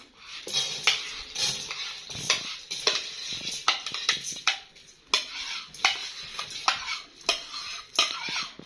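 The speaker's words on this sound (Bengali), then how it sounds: "প্রথমেই দিয়ে দিচ্ছে চাল ডাল, এটা ধুয়ে ভিজানো ছিল কিছুক্ষণ" Soaked rice and lentils go into a pot for vegetable khichuri, with repeated clinking and scraping of a utensil against the pot in an uneven rhythm, close and moderately loud.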